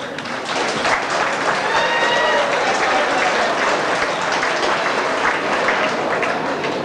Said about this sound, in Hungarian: Egy tapsot szeretnék kérni a gólyáknak.